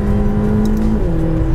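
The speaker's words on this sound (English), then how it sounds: "really wring the engine out" McLaren GT engine pulled hard at full throttle in manual mode, a steady droning rev with a brief pitch shift midway, loud and close with no voices.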